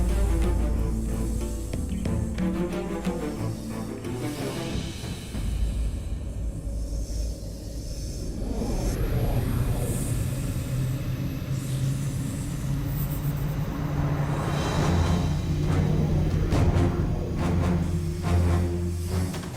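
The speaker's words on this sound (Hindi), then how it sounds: "पुष्पक विमान?" A television sound effect for the Pushpak Vimana, the mythical flying chariot of the Ramayana, passing overhead: a sustained, loud, whooshing hiss over a deep rumble that swells and shifts over about twenty seconds, with no talking.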